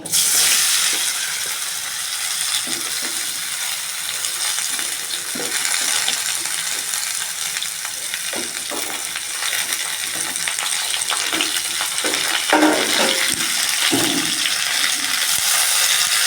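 Boiled amla going into hot oil tempered with panch phoron, a continuous loud hiss and crackle of frying with scattered knocks and stirring noises throughout, no voices.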